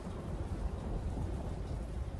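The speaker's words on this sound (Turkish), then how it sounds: "Denizde fırtına da gitgide daha da kuduruyordu." A dense, steady roar of storm noise at sea, heavy low rumbling like rolling thunder mixed with wind and rain, fills the whole stretch without breaks or distinct claps.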